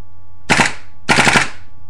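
A KJW M4 gas blowback airsoft rifle fires two short full-auto bursts, each a loud, rapid rattle of cycling bolt shots lasting about a quarter second, separated by a brief pause in a quiet room.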